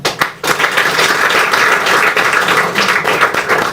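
A crowd claps and cheers steadily, a dense wash of applause that stays loud throughout with no voices standing out.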